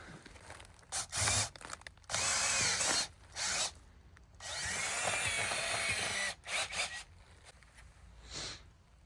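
A power drill whirs in several bursts of varying length, with short pauses between them, fairly close and sharp.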